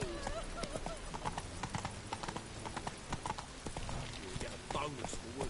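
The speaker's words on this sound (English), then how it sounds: "Run, Roach" Clip-clopping hooves of a horse galloping steadily in The Witcher 3 video game, rapid rhythmic thuds running throughout alongside game ambience, with a voice speaking over the hoofbeats.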